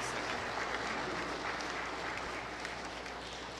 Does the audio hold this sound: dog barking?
no